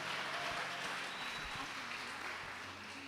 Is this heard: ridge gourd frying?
no